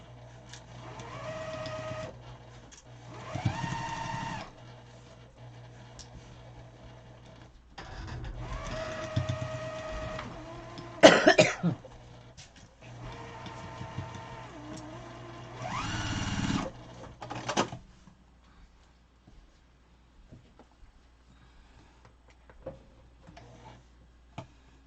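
A sewing machine runs in several short, close bursts of rapid mechanical stitching separated by brief stops, then goes quiet for the last several seconds.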